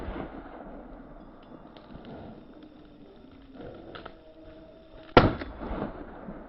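A single sharp rifle shot from a hunter firing at a wild boar in woodland, loud and abrupt near the end after quieter rustling outdoor ambience.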